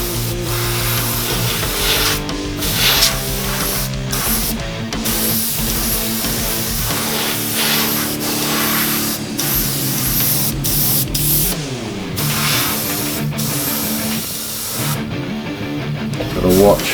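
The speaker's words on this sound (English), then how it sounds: "Gotta watch my angle of my airbrush." An airbrush sprays paint for realistic fire artwork, a loud continuous close hiss broken by brief pauses, with faint background music.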